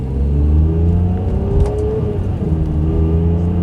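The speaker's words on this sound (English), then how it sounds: "There's a nice throaty roar to this car, almost a bark, I would say." A Ferrari 612 Scaglietti engine revs with a deep, throaty roar, held steady and loud near the listener in manual sport mode, with a sharper barking rise around the middle.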